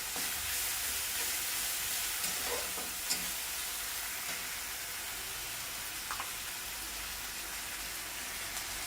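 Tomato puree frying with ginger-garlic paste in a pan for crab masala, a steady soft sizzle and hiss with a few faint stirring clicks, alone and without talk.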